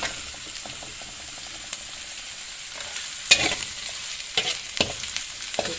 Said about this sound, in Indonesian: Ini kita tumis sampai layu.